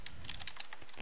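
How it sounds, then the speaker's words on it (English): A computer keyboard clicks in a quick run of close, crisp keystrokes, steady and alone, while a search term is typed into the Windows 7 Start menu. "we type in indexing"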